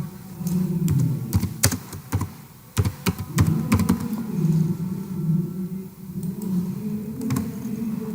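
Fingers typing on a computer keyboard to change text on a presentation slide, with irregular bursts of close key taps and clacks over a low background hum, no talk.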